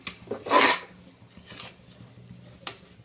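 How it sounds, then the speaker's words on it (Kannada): A spoon scrapes and clinks through raw rice in a cooking pot while making vegetable pulao, with one loud scraping stir followed by a few softer strokes. "ಅಕ್ಕಿನ ಹಾಕಿ ನಾನು ಮಿಕ್ಸ್ ಮಾಡ್ಕೊತೀನಿ"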